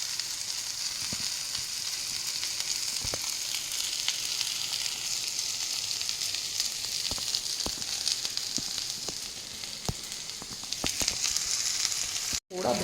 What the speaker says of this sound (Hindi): थोड़ा भून जाए ना तब नमक डाल देते हैं।